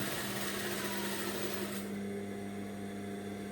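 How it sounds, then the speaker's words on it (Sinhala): A sewing machine runs steadily while stitching a size 30 bra near the cup edge, a continuous close whirring hum that eases slightly partway through, with no talking. "මේ පැත්තත් ඒ වගේ මේ විදිහට මහනවා"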